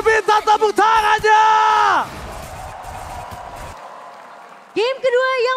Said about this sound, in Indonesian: So, MPL Grand Final minta tepuk tangannya!